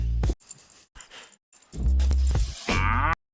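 A 500-kilo cow lets out loud, close moos in several bursts, the longest low bellow near the end, with brief quiet gaps between calls and no talking.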